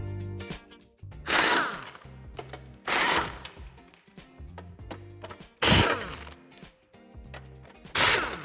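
A power tool works on screws holding the metal bumper reinforcement of a 2020 Cupra Formentor. Four loud, sharp bursts arrive at regular intervals, with quieter metallic clicks and rattles between them, close by and without talk.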